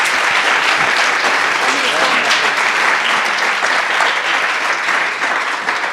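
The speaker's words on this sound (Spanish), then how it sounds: "Un aplauso." An audience claps loudly and continuously at a conference session, a dense sustained roar of applause that tapers slightly at the end, with faint voices mixed in.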